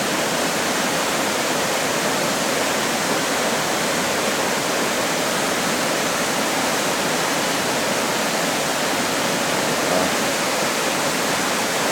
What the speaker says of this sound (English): This is their own waterfall